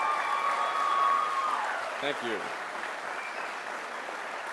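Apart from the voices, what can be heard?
graduation audience applauding mothers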